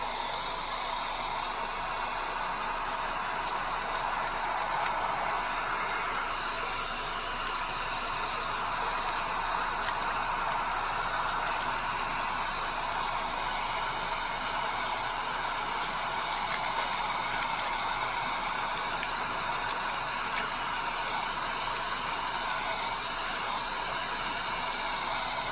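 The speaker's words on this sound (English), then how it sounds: "but I'm going to use my heat gun." A heat gun blows hot air steadily over a sublimation tumbler wrap, producing a constant close whooshing hiss for a long stretch with occasional faint clicks and no talking.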